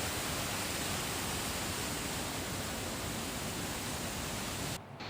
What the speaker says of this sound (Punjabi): ਆਹ ਪਾਣੀ ਸਾਰਾ ਉੱਪਰੋਂ ਡਿੱਗ ਰਿਹਾ